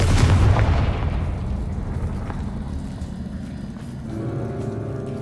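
A Confringo spell blast in Hogwarts Legacy lands as a loud, deep booming explosion at the start, its rumble slowly decaying over several seconds with no voices.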